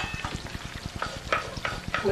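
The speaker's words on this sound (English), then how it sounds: "you stir in the onions" Onions stirred in a frying pan give a soft, fairly quiet sizzle with a quick run of rhythmic scraping strokes.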